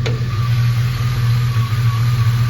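A 1966 Chevy C10 short-bed truck with a rebuilt LS swap V8 idles steadily and loudly close by, a low rumbling drone that holds even throughout with no revving and no talk.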